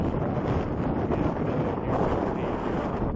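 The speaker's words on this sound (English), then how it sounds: "It's getting nice and windy up here." Strong wind blows across a hilltop in Romania's Dragan Valley, buffeting the microphone in a loud, continuous rush that swells slightly midway.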